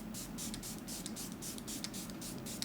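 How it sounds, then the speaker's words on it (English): Steady rhythmic hisses of a face mist spray pumped onto skin, a base moisture product misted in quick repeated bursts close to the microphone, with no talking. "I'm gonna spray some of it on my face"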